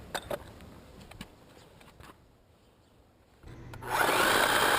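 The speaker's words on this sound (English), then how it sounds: "start hammer drilling to get that core bit to go into the concrete of the curb" A hammer drill with a core bit bites into a concrete curb, starting after a few scattered knocks and a quiet pause, then rising into a loud, steady grinding roar that continues to the end.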